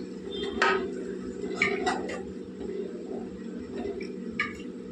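A spoon clinks and scrapes against a metal pot while food is stirred and mixed, a few distinct knocks over a low steady hum, close by and moderately quiet.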